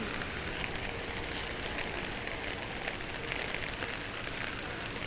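Steady rain falls outdoors during a walk, a dense, even patter and hiss that stays constant at moderate volume throughout with no voices.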